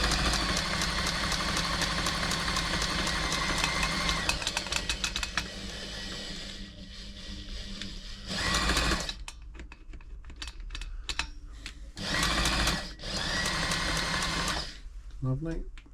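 A Brother XL5012 sewing machine being serviced runs in loud, fast mechanical bursts with rapid needle clatter, stopping and restarting several times, with quieter gaps between runs.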